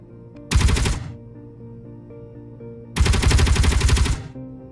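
Ship weapons test-firing in the Space Engineers video game: two loud, heavy bursts of rapid gunfire, the first about half a second long and the second lasting over a second, separated by a low steady hum.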